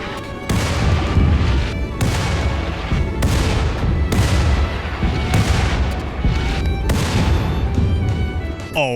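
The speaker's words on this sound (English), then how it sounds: "Let's orbital bombard all of them." In the video game RimWorld, an orbital bombardment sets off a rapid series of loud, deep booming explosions one after another, each with a rumbling tail.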